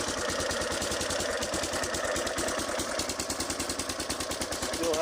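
Warrior 350 ATV engine idling just after starting, with a cracked exhaust baffle: a steady, fairly quiet rapid putter with a rough, clattery texture and no voices.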